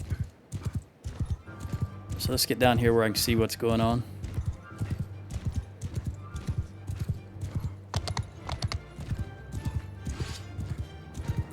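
Horse hoofbeats from mounted horse archers in Mount & Blade II Bannerlord, a steady, loud clip-clop of galloping hooves across a battlefield with a brief whinny, running beneath someone talking.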